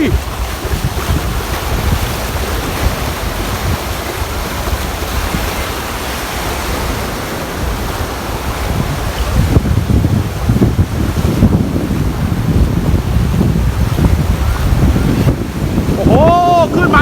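Sea waves surge onto a beach at Cha-am with strong wind buffeting the microphone, a continuous broad roar growing heavier in the second half, with brief faint voices near the end.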